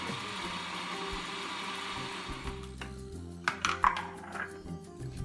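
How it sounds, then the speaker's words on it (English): A blender purees butternut squash, apple and ginger soup with chicken stock, a steady motor whir that winds down midway, followed by a few clinks and knocks of the jar and utensils. "That's blending up real nice."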